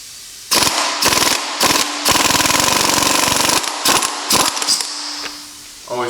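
A heavy-mass impact socket on an impact wrench hammers at an engine bolt on a 1996 Honda Accord F22B2 during disassembly, in several loud, close rattling bursts of rapid blows, one long sustained run in the middle, with no talking.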